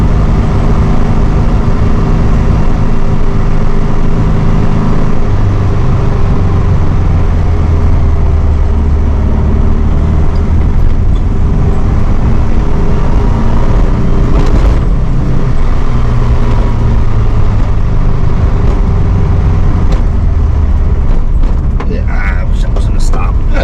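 A 1964 VW Beetle 1600cc engine drones steadily at low revs in second gear throughout, a continuous rumbling hum with faint mechanical rattles, with no one speaking.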